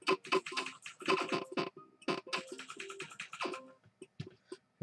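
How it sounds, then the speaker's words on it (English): Rapid, uneven clicking of loud computer keyboard keys in quick bursts with short pauses, fairly close and clear, no one speaking. "all loud when I click."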